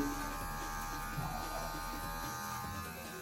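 Electric hair clippers set to the 0.5 and 0 guards during a self-haircut, a steady close buzz that drones on throughout and eases slightly toward the end, with no talk.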